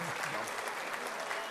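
Audience at a mushaira in Kuwait breaking into steady, dense applause, a continuous wash of clapping from a crowd with a brief voice underneath at the start.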